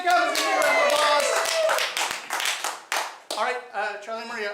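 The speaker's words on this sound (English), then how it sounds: "Give me a round of applause." A studio audience on a game show claps as contestants enter, with scattered hand claps under loud talk and music from the host.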